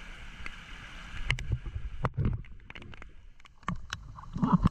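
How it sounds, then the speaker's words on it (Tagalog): Strong flood water current sloshes and gurgles close by in uneven surges, with scattered splashes and knocks as someone wades through it. "Malakas yung agos yan."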